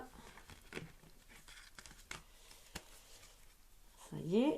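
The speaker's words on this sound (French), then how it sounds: "les cartes se sont mélangées" Oracle cards are shuffled by hand in soft, papery bursts of riffling and patting, fairly quiet, with a voice speaking between and over them.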